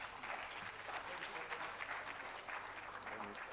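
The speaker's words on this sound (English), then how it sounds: "Please, a round of applause for him once more." Audience applause for the speaker at a memorial lecture, a steady wash of clapping at moderate distance, fairly quiet, with voices mixed in underneath.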